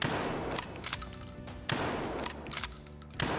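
A KS-23 shotgun fired at body armor with barricade ammunition, producing loud booming blasts with long reverberant tails, three heavy shots spaced about a second and a half apart, outdoors and close.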